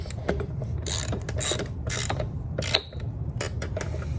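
A ratchet tightening the wheel nuts on a scooter during a tire change, giving rapid clicking bursts in short repeated strokes with brief pauses, close and clear with no talk.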